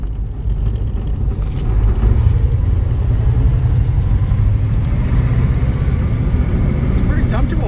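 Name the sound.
1940 Chevrolet coupe street rod driving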